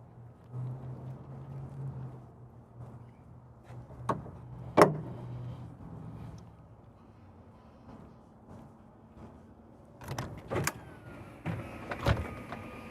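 Hydraulic entry steps on a 2023 Newmar Supreme Aire 4051 motorhome deploying, with a low motor hum followed by mechanical clunks and clicks as the steps settle, close by with no talking.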